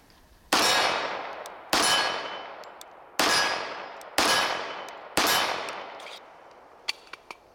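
Five sharp metallic clangs ring out at roughly one-second intervals as an Auto Ordnance case-hardened 1911 pistol is handled, with a few small clicks toward the end and no talking.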